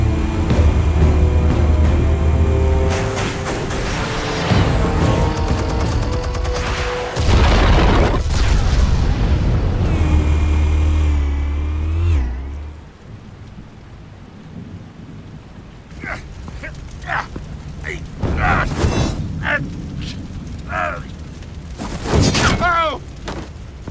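Explosives detonate in Batman: The Telltale Series, with heavy rumbling booms and crackling debris for about twelve seconds, then quieter scattered impacts, sharp bursts and brief voices.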